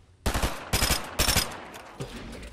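Automatic gunfire in Fortnite Battle Royale during a competitive match: three close, loud rapid bursts in quick succession, then a single fainter shot, with no talk over them.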